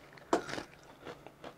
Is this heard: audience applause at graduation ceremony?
no